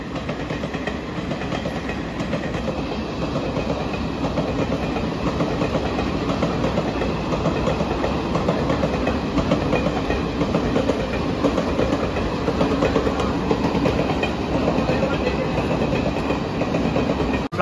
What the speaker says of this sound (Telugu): వేరే లెవెల్ ఎంట్రీ ఇస్తుంది ఒక ట్రైన్ అయితే.